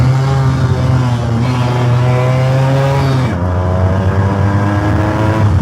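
A 2004 TVS Suzuki Samurai two-stroke motorcycle engine runs loud and close, a steady buzzing drone with a dense harmonic whine that dips in pitch midway as the revs change, heard alone.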